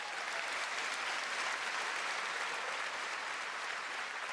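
A large Montreal comedy gala crowd applauds, a loud, dense, unbroken roar of clapping filling the hall from start to finish.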